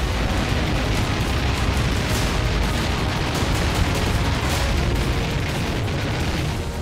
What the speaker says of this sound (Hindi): यूक्रेन की राजधानी में जगह जगह धमाके हो रहे हैं।